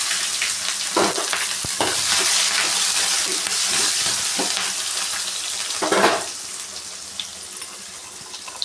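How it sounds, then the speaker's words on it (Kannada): Cumin seeds and chopped onion frying in a pan for khichdi, a steady close sizzle with stirring scrapes and a brief louder hiss near the end, no talk. "ಒಂದು ಸ್ಪೂನ್ ಜೀರಿಗೆ ಹಾಕೋತಾ ಇದ್ದೀನಿ. ಹಾಗೆ ಒಂದು ಈರುಳ್ಳಿ ಕಟ್ ಮಾಡಿಕೊಂಡೆ ಹಾಕೋತಾ ಇದ್ದೀನಿ."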